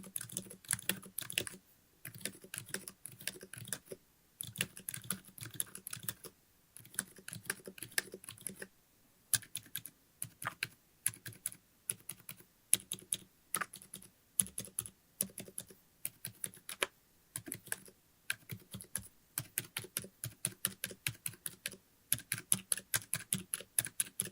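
Typing on a silent mechanical keyboard, with keys running from stock non-lubed switches to lubed ones: quick bursts of soft, muted key clacks in uneven runs with short pauses, close up, no talking.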